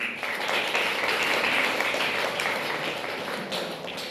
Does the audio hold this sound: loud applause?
yes